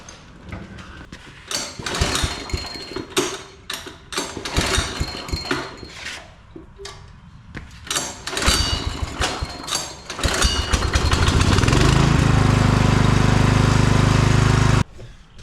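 An old generator engine, just repaired, sputters and coughs in uneven bursts before catching and settling into a loud, steady running drone that cuts off abruptly at the end.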